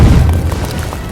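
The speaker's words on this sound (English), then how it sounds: "There was an explosion." Explosion sound effect in an animated film, a loud deep boom that hits at once and rumbles away over about a second.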